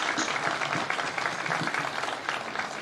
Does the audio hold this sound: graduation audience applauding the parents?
yes